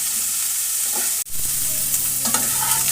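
Cauliflower pieces frying in oil in a frying pan, a steady close sizzle with stirring scrapes throughout, broken by a brief quiet dip partway as more pieces are added.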